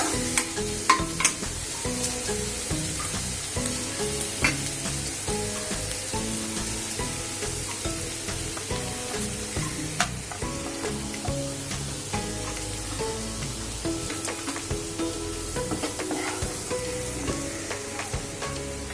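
Capsicum and gram flour stirred in a hot pan, a steady sizzle and frying hiss running throughout with repeated scraping and clinking of the spoon, close and fairly loud, no voices.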